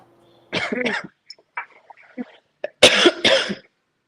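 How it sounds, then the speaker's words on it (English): Several harsh coughs come in separate bursts, a pair early and a stronger double cough near the end, with quiet throat noises between. "Everybody's coughing."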